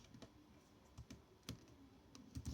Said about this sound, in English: So I am just typing here